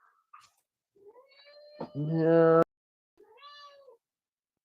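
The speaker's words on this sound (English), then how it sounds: "You certainly did hear a cat." A female house cat meows repeatedly indoors, with loud, drawn-out harmonic cries at close range, separated by short pauses, while a person speaks briefly nearby.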